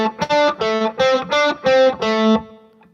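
An electric guitar plays a solo phrase of about seven sustained, slightly distorted notes in a quick even rhythm, the last note held and fading, alone and close.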